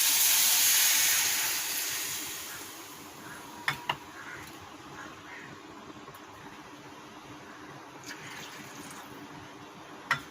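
Three cups of water are poured onto fried vermicelli in a hot pan for payasam, setting off a loud hissing steam burst that fades to a quieter simmering hiss, broken by a few sharp clinks.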